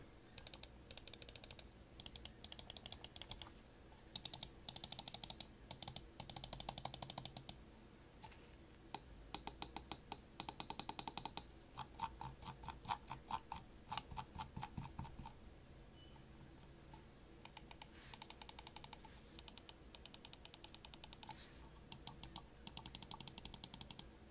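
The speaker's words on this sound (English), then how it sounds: "Here's a listen to each, with the 2 main buttons compared with the G302." Rapid bursts of crisp plastic clicks from the two main buttons of a Logitech G Pro gaming mouse, compared with a Logitech G302, come in quick runs with short pauses between them, sharp and close.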